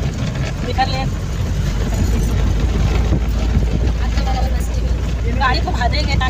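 A car jolts and rumbles along a rough road on the drive to a Shani temple. A loud, steady engine and road roar with rattling fills the cabin while people talk.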